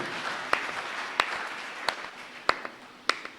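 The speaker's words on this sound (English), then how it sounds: "you can give the Lord a mighty clap offering" Church congregation clapping steadily as an offering to the Lord, a continuous wash of hands with a few sharper louder claps standing out at regular intervals.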